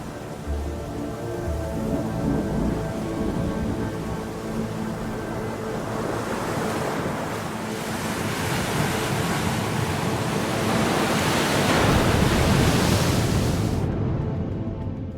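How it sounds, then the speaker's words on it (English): Stormy Baltic Sea waves and wind: a loud, continuous roar of surf and gusting wind that builds in intensity over the stretch, with no talking. "A storm is brewing."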